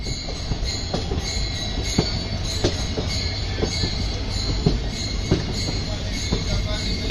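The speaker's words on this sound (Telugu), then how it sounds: "మన పక్కన మధురై రామేశ్వరం ప్యాసింజర్ వచ్చేసింది అనమాట" A Madurai–Rameswaram passenger train runs on the adjacent track near Madurai. Its wheels clatter in a steady run of rhythmic clicks over a loud, continuous rumble that lasts the whole time.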